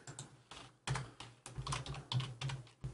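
Someone types channel labels on a computer keyboard in quick, irregular clusters of close, crisp keystrokes over a low steady hum, with no speech.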